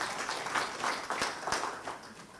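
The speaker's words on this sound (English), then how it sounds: "give them a round of applause" Fairly faint applause for presenters at the close of a breakout session, a short run of individual claps with a few sharper hits standing out.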